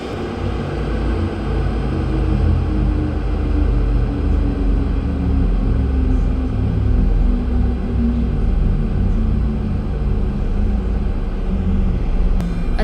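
A Boeing 737-800 engine winds down on the ramp after landing, a loud, steady low rumble with a slowly falling whine and no voices.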